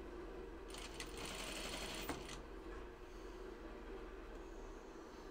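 A sewing machine stitching a seam on a Grainline Studio Scout Tee, a quiet rapid mechanical whir that runs for under two seconds and then fades to a low steady room hum.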